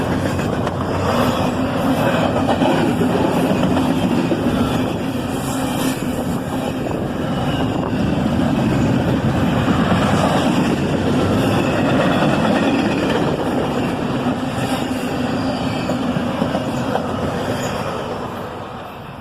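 A CSX freight train rolls past with an ES-44ACH locomotive as distributed power, a loud, steady rumble and rattle of wagons that holds for most of the stretch before easing off at the end.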